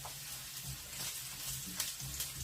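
Onion sizzles and crackles steadily in a hot pan, a soft continuous frying hiss with occasional pops, fairly quiet and close.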